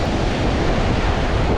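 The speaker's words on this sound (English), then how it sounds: "The wind and the waves," Wind buffets the microphone on a Lake Erie beach while waves wash in, a loud, continuous broadband roar with no voices.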